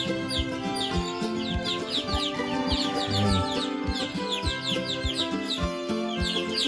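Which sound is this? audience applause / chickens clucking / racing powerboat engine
chickens clucking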